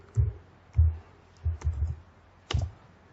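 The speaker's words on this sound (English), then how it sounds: "Let me type that." Typing on a computer keyboard, five or six soft, low clicks and taps spaced irregularly over a few seconds, fairly close with a quiet background.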